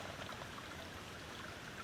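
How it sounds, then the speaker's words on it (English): Water drips and trickles out of a homemade carbon filter into a container below, a faint, steady patter and light splashing that carries on without a break. "So we're collecting our water as it drips out."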